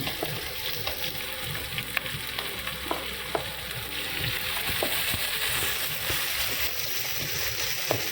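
Garlic and green chillies sizzle steadily in hot coconut oil, a close, continuous frying hiss punctuated by small pops and spoon stirring clicks, with no talking.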